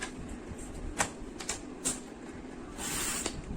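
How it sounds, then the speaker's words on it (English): A paper trimmer slices through craft paper for a scrapbook album, making a few soft scraping and clicking strokes followed by a longer rasping slide, close and quiet with no talking. "now place this paper on the 6 and 7/8 inch mark and trim."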